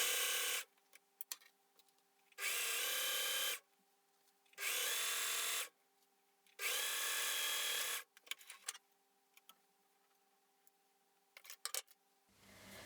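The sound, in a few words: sewing machine sewing a short straight stitch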